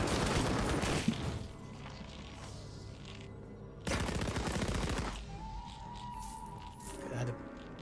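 Rapid automatic gunfire in the Warhammer: Chaosbane video game, two dense bursts of rattling shots a few seconds apart over a steady game soundscape with tonal effects, loud and without talk.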